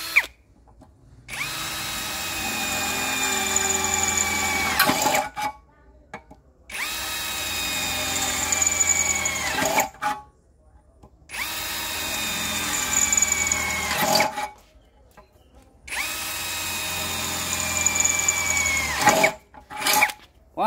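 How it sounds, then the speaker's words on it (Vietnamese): An electric drill with a 10 mm steel bit bores through 2 mm thick steel box tube at high speed, in four long whining bursts of about four seconds each separated by brief pauses, loud and close with no talk. "em sẽ sử dụng cái mũi khoan sắt 10 ly, khoan trên sắt hộp dày 2 ly cho bác cùng xem nhé"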